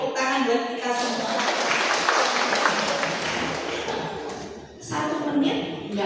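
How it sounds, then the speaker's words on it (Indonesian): Church audience clapping together in a steady, dense wash of applause lasting several seconds, briefly dipping before swelling again, with some voices mixed in. "Ini tepuk tangan buat kita semua"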